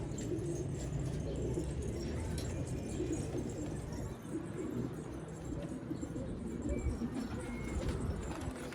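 A young pigeon coos repeatedly in a pigeon loft. The soft, continuous calls sit within a busy, noisy background, with people talking nearby.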